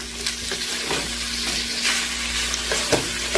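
Ground beef fries loudly in a pan with a continuous close sizzle, punctuated by scraping and stirring sounds as it is flipped, no talking.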